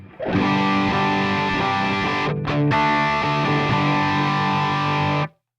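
Heavily distorted electric guitar through a Fractal Audio Axe-Fx II, mids at 7 and treble at 8, playing sustained chords with a thick, crunchy classic rock tone, briefly cutting out once before ringing on and stopping.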